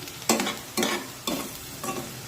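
Softened onion with curry leaves fries in a pan, four bursts of scraping stir-and-sizzle spaced about half a second apart.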